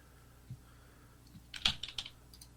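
Typing on a computer keyboard: a few isolated key taps, then a quick burst of crisp clicking keystrokes close to the microphone in an otherwise quiet room.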